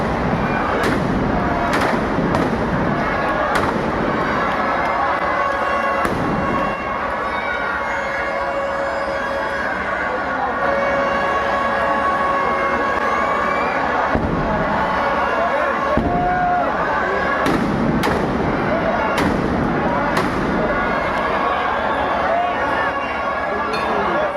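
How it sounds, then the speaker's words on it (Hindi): Firecrackers burst at a Dussehra Ravana effigy burning amid a large outdoor crowd, loud sharp cracks coming in clusters and intermittent bangs over a constant roar of crowd noise. "अब आप साउंड सुनना पटाखों के।"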